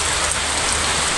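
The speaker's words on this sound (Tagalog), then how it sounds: "Kaya lang biglang umulan." Steady rain falls in a rural Philippine setting, a dense, even hiss of drops on surfaces, close and continuous with no voices.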